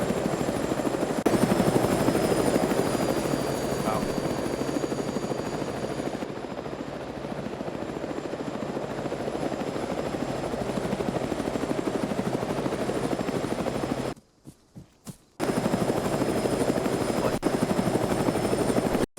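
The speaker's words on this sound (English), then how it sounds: "rush back to the chopper and repair it." A military helicopter flying in the video game Arma 3, its rotor droning loudly and continuously, cutting out briefly for about a second before resuming at full strength.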